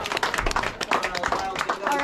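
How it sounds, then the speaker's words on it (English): Audience applause at a Mystery Spot show in Santa Cruz, California: a brief burst of scattered, uneven clapping from a small crowd of onlookers, mixed with some background chatter. "please give him a big round of applause"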